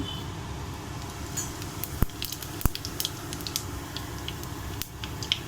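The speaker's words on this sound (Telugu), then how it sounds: "ఆయిల్ హీట్ అయ్యాక ఆవాలు జీలకర్ర వేసుకుందాము." Mustard seeds and cumin sizzling in hot oil for cauliflower fry, a steady crackling hiss with scattered sharp pops and spits, close and alone.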